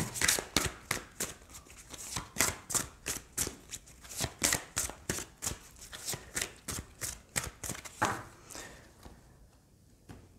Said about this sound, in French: Je vais prendre 3 cartes déjà.